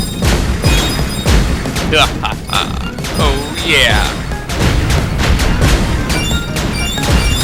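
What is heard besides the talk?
explosions in Kirby's Epic Yarn video game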